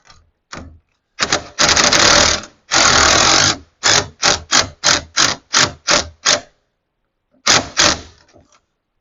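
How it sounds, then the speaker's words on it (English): An impact wrench with a 15 mm socket tightening a nut during an ice scratcher kit install, loud close bursts: two long rattling runs, then a quick series of short hammering pulses and a final pair. "you can go ahead and take an impact. I got a 15 millimeter on there."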